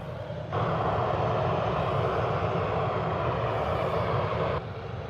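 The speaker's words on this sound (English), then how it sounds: "EasyJet indeed, heading out over to Belfast." An EasyJet airliner's jet engines roar steadily at an airport, the plane heading out toward Belfast in wintry de-icing weather; the loud, sustained rumble swells up abruptly and holds for about four seconds before easing back to a lower drone.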